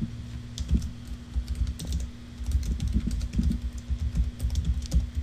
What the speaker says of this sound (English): Sorry if you can hear me type, it's rattling against the microphone.